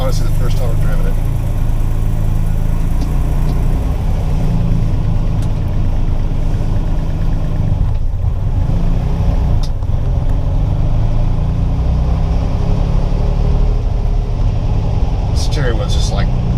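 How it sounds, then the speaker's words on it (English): A car engine idles smoothly with a steady, low, even rumble close by, holding a constant level throughout while a person talks over it. "Tach smooth, engine sounds smooth"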